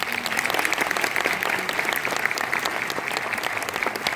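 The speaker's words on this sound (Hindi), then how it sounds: "ये आपकी तालियां बता सकती हैं" Audience at a Karva Chauth special product and makeup presentation applauding, dense, continuous clapping from a crowd, loud and steady throughout with no break.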